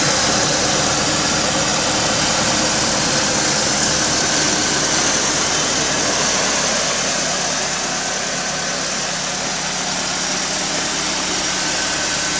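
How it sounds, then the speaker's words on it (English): A black Chevy S-10 pickup's engine idles steadily, a constant broadband hum with no revving, close and moderately loud throughout. "As you can hear, motor's running."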